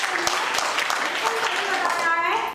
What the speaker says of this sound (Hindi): तो इसके लिए एक बार जोरदार तालियां हो जाए।